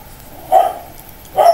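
Dogs bark twice, two short, sharp barks about a second apart, fairly close and loud over a quiet background with no talking.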